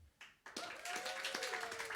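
Audience applause at a comedy show in a small venue, a few scattered claps at first that swell into steady clapping from a modest crowd, with a person's voice briefly heard over it.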